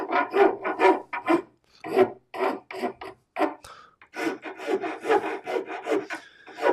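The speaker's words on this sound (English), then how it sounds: "you don't want to stand or sit there and see me filing away, rasping away" A fine rasp files wood clamped in a vise for a Christmas candle bridge, with steady rhythmic strokes in quick bursts, close and fairly loud, and short pauses between passes.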